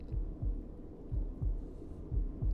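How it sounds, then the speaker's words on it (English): A heartbeat in the survival video game Bermuda: Lost Survival, with deep double thumps pulsing steadily about once a second, loud and close, with nothing else over them. "I heard my heartbeat"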